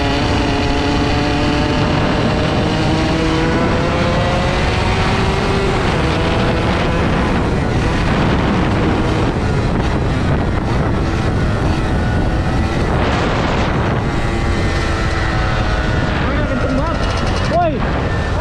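Two-stroke motorcycle engine revving hard and holding a long, loud wailing exhaust note that rises and falls over a steady roar throughout.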